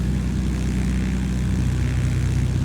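An L-19 Bird Dog, an army observation aircraft, drones steadily in flight in Microsoft Flight Simulator 2020, its propeller engine giving a constant, loud, even hum with a low throbbing tone and no pauses.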